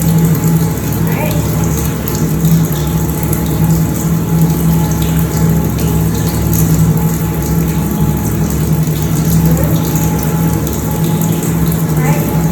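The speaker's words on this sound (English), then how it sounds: "you rinse from your fingers, making sure that your hands are slightly elevated so that the water drips down your hands all the way to your elbows" Steady running water from a tap during a surgical hand scrub, a continuous even rush with a faint mechanical hum underneath, as hands and forearms are rinsed from fingertips to elbows.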